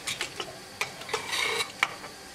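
A pressure cooker lid opens after cooking chana dal, heard as a few faint metallic clicks and scrapes with a brief soft hiss of remaining steam, close and quiet.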